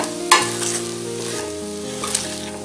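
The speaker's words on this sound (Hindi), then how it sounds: "तो अब हम इसे फ्राई करेंगे।" Vegetable fried rice is stir-fried in a hot pan: a steady close sizzle with a sharp scrape of the spoon near the start and another toward the end, and no talking.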